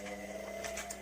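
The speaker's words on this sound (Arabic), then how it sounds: "وادي امدير الموتور لما بيشتغل في الشمال واليمين." The motor of a White Point automatic washing machine runs with a steady, close, moderately loud hum and faint rhythmic mechanical clicks over it, heard alone without voices.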